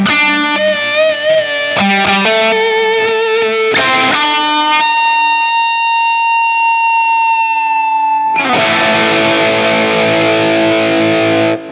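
Heavily distorted Cort G300 electric guitar playing bright, squealing pinched and tapped harmonics; a long sustained high note rings out alone before a loud, dense chord crashes back in.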